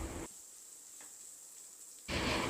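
Oil sizzles loudly at the start and end, with a quieter hissing stretch between, steady and close up with no talking.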